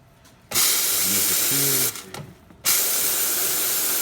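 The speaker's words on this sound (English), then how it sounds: "nice strong steam" A Quickmill Ventrano espresso machine steam wand hisses in two strong bursts, broken by a short gap with a gurgle, loud and close with no talk.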